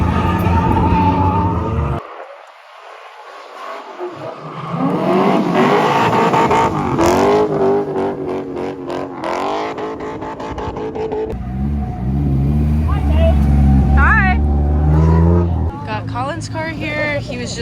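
A Bridgeport-ported 13B rotary Mazda RX-7 FC at a drift event howls loudly and close, its revs rising and falling with tire squeal and brief dips, while people talk and shout over it.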